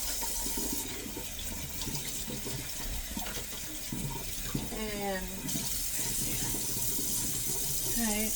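Water runs steadily from a kitchen tap at an even, moderate level. The continuous splashing hiss lasts throughout, with a brief faint voice in the background partway through.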